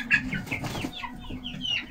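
Rhode Island Red and Australorp pullets cluck and chirp together nearby, a layered chorus of overlapping calls over a low steady hum.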